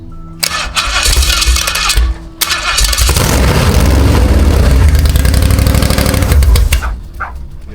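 A 1968 Holden V8 with no mufflers cranks and fires, then settles into a loud, raw, unsilenced rumble with a lumpy idle. The engine runs close and dominant for several seconds before tapering off.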